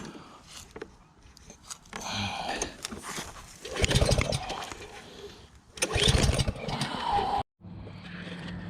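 A small petrol pressure cleaner engine is pulled to start, giving several bursts of sputtering engine noise that catch briefly and die, up close and fairly loud.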